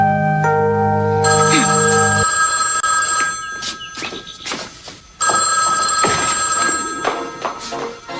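A telephone rings repeatedly in an office during a soap opera scene, loud, clear electronic rings repeating over several seconds with brief gaps between them.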